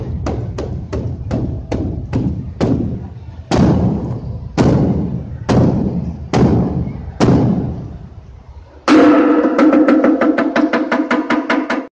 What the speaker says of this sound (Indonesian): Nah, kalau yang besar ini namanya beduk.